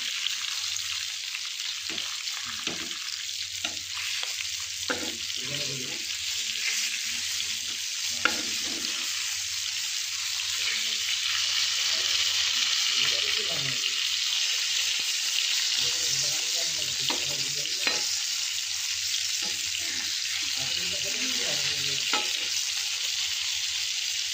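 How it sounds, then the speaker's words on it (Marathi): Pieces of river fish fry crisp in hot oil with a steady, continuous sizzle, broken by intermittent clatters and scrapes as the pieces are turned over. "पलटी करून चांगले कडक तळून घ्यायचे."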